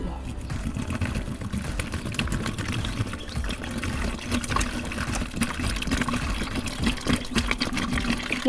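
Plain clean water pours steadily from 1.5-litre bottles into a tobacco-leaf pest-control mixture, a continuous loud gushing and splashing that runs unbroken throughout, close by with no voices.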